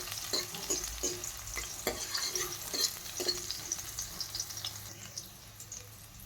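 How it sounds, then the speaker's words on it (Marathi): Ginger, garlic and green chili sautéing in a little oil in a wok, a soft steady sizzle with several sharp scraping stir strokes from a spatula, fairly quiet and without talk. "यामध्ये आता मी हे पहा, आलं, लसूण आणि हिरवी मिरची टाकून घेणार आहे."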